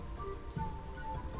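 Steady rain patters on a surface as a constant background wash in a Tomb of Annihilation D&D 5th edition session on Roll20, even and moderately loud with no pauses.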